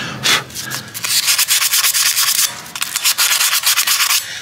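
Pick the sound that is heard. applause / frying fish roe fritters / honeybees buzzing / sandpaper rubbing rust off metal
sandpaper rubbing rust off metal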